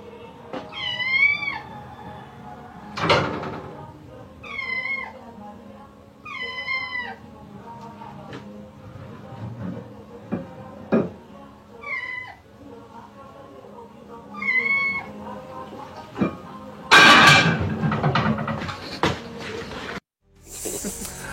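A kitten meows repeatedly in short rising cries, close and clear, amid household clatter and a few sharp knocks, with a person speaking at times in between.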